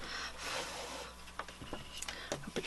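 Scissors cutting out stamped paper, starting with a breathy rubbing rustle and then giving way to short, irregular snips and scrapes, close by and moderately loud.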